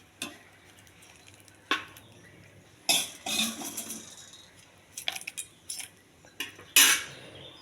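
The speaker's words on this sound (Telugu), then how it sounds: "ఈ తాలింపు ఇందులో వేసేయాలి చట్నీలో" Tempering poured into coconut chutney and stirred with a spoon, giving sparse clinks and scrapes against the bowl in short bursts amid quiet pauses, close by.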